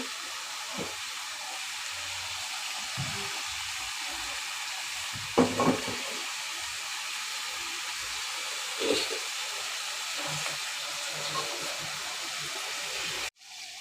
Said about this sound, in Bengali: ডাল রান্না হয়ে গেছে, এখন আমি বাগার দিয়ে নিব।